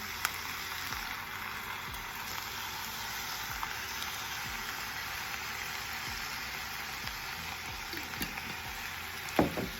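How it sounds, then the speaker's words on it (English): Diced tomatoes and jarred sauce are stirred into meat sauce in a pot, giving a steady, soft sizzle with faint scraping stir strokes. The sizzle runs alone, and a slightly louder clack comes near the end. "I'm gonna mix it in here real good."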